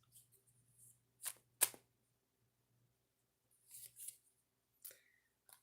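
Oracle cards being shuffled and drawn in a quiet room: a few quick, faint papery riffles and flicks spaced apart, with near silence between them.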